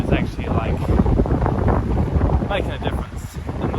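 Strong gusting wind buffets the microphone in an outdoor spot, a loud rough roar filling the whole stretch, with a voice speaking briefly through it.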